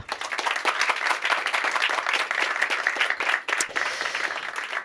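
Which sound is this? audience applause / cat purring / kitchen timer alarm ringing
audience applause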